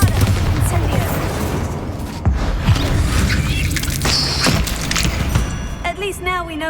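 Spell blasts such as Bombarda and Incendio cast in Hogwarts Legacy, a rapid run of bursts and booms thumping under dense combat noise, with a voice calling out throughout.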